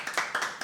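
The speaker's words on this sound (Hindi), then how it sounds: "वाह यार, ताली बजाओ एक बार।" An audience at a live poetry open mic gives a quick burst of applause, three or four sharp claps close by in under a second.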